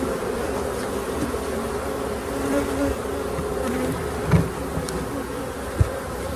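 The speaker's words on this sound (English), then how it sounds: "Quite happy with the number of bees in there." Honey bees swarm inside an open beehive, a dense, steady buzz heard up close without pause, with a couple of brief knocks near the end.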